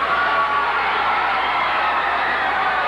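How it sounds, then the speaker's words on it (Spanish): Arena crowd at a 1990 lucha libre wrestling event in Mexico roars and applauds for Eddie Guerrero, a dense, steady wall of cheering and clapping with no break. "vamos a recibir con un fuerte aplauso a Eddie Guerrero"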